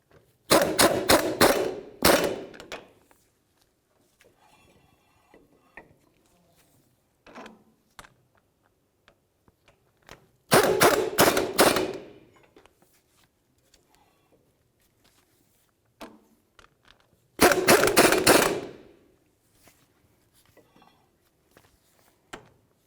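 Impact wrench snugging CV axle shaft bolts on a 1988-1994 Chevrolet K1500 front end, three loud rattling bursts of about two seconds each separated by quiet pauses with faint clicks and handling noises.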